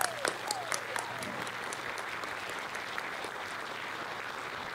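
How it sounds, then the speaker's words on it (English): Applause from the audience at a public school board of education session, a fairly faint, even patter of clapping throughout, with a few sharper claps near the start. "Another round of applause for all of you."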